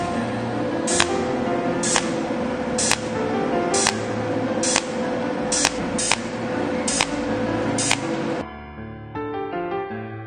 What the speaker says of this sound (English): Then we use 1 mm stainless steel plate for welding. We set the welding current to 80 and the welding time to 10. Start the welding.